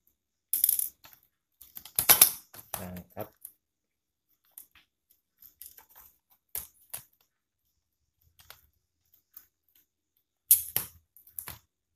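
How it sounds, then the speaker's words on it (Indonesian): Small screws on the cooling fan of an Acer Z1402 laptop being undone with a screwdriver, a series of faint close clicks and ratcheting ticks in scattered bursts with quiet gaps between. "dan baut fan dilepas juga"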